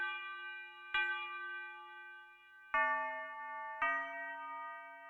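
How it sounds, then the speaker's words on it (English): A big bell sample from a drum kit in FL Studio rings out four times in a slow pattern, each clear metallic strike sustaining with rich overtones before the next note changes pitch. "I used the bell from my drum kit, basically big bell over here."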